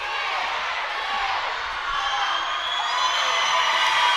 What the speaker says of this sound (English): the crowd go wild when they see that their team, Isle of Man, has just beaten Ireland